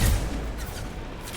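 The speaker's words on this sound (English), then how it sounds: "Firing a high impact shot." A high impact shot fired in Mass Effect 2: a single deep, heavy boom at the start, then a fading rumbling tail, loud and close with nothing else over it.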